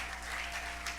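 A church audience applauds loudly during a worship service, a dense, steady wash of clapping filling the whole second without pause.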